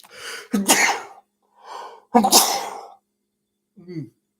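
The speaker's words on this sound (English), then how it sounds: "I gotta sneeze." A sharp, loud sneeze bursts out once, followed by brief voices speaking, then a short muffled sound near the end.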